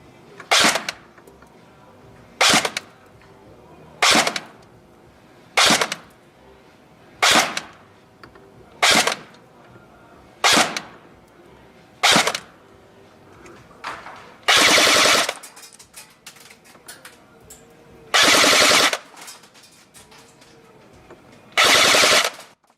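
A Cybergun FAMAS electric airsoft rifle fires at an outdoor chronograph range in a series of sharp, close bursts: short strings of shots repeated about a dozen times, with longer full-auto volleys toward the end.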